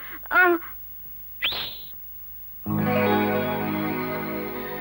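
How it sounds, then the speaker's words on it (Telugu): A person whistles twice in short rising bursts, then a long sustained tone follows, loud and close with a processed, echoing film-soundtrack quality. "విజిల్ వేయనా?"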